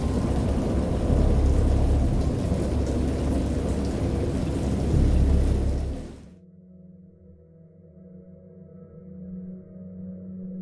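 A heavy thunderstorm with steady pouring rain and deep thunder rumbles in the video game Dagon, loud and dense for about six seconds before cutting off to a low, quiet drone.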